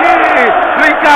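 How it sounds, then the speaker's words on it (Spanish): A Racing Club stadium crowd in a 2014 Argentine first-division match against Godoy Cruz roars loud and steady, a dense wall of cheering with applause mixed in, close and continuous throughout. "Los aplausos para todo el equipo."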